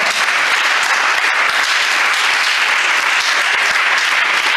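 Loud, dense applause fills a church as a congregation claps together, a continuous close wash of many hands with no pauses throughout.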